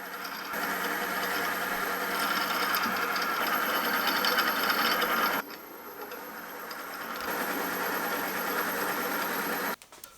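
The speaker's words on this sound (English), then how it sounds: "I'll then come in and drill some mounting holes." Drill running on a milling machine while boring mounting holes into a hydraulic gear pump base: a steady, fairly loud mechanical whir with a brief dip partway through and a sudden stop near the end.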